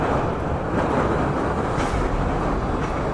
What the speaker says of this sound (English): with a gentle rocking and monotonous background noise of the interlink train